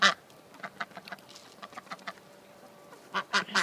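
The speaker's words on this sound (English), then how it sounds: "There's a white duck, 2 mallard hens, and 3 chickens." A white duck and two mallard hens quack in short bursts, close and clear, with a few quieter calls in between and a louder cluster of quacks at the end.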